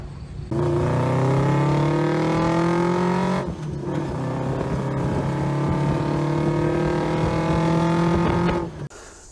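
A century-old car's engine runs steadily with a low droning hum and clear harmonic tones, nearby and loud, dipping briefly once before picking back up and then cutting off at the end.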